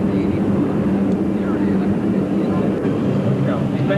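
Concorde jet engines with reheat (afterburners) engaged during a climb at the 1986 Texas Air Expo in Waco, giving a loud, continuous, dense roar that holds steady throughout.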